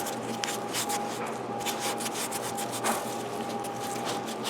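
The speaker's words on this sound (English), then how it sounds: "After the scuffing pad, I use the tack cloth to get rid of any remaining materials left on it." Tack cloth wiped over a scuffed surface before hydro dipping, a steady close soft rubbing and swishing with faint rhythmic strokes over a low background hum.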